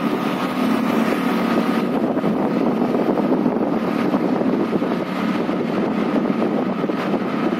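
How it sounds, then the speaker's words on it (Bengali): A scooter rides along a sunny road through Chhatna, giving a steady, loud, unbroken engine drone and wind rush close to the microphone with no talking. "মানে গাড়ি মানে বাইক চালাচ্ছে সুদেশ, না বাইক নয় স্কুটি।"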